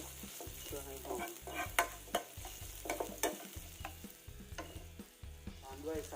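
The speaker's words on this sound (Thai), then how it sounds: "ตั้งน้ำมันลงกระเทียมเข้าไปเลยเพื่อให้หอม" Garlic sizzles in hot oil in a pan with a steady frying hiss, while a utensil stirs and clinks sharply against the metal several times; no one speaks.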